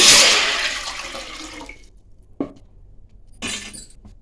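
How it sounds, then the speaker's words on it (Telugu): A cup of water poured into a pot for rice-flour chegodi dough, a loud splashing rush that fades over about two seconds, followed by a short clink and a brief second splash, with no talk. "ఒక కప్పు వాటర్ వేసుకోవాలి."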